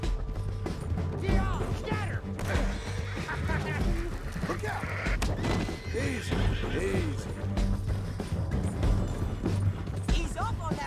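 Horses whinny repeatedly while galloping in the video game Red Dead Redemption 2, hooves clopping steadily under loud, excited voices talking throughout.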